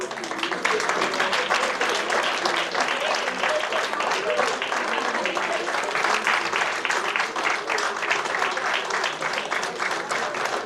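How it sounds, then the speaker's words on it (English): Sustained applause from a stage-event audience for a woman being honoured, a dense, even wash of clapping lasting throughout at steady loudness, with faint voices mixed in underneath. "Please applaud Rosa, ma'am."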